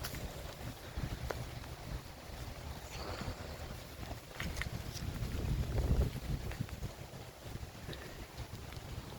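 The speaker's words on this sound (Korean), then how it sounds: "바람 소리 봐." Wind gusting outdoors under an autumn sky, a steady rushing roar with buffeting on the microphone that swells and eases, no voices over it.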